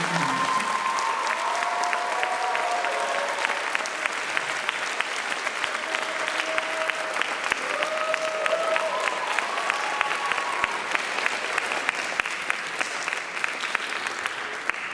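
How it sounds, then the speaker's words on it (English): Audience applause after a Bharatanatyam dance graduation performance at a closing ceremony, sustained crowd clapping in a hall, steady and fairly loud, with faint voices and brief whoops mixed in beneath. "So, big round of applause for Nishtha."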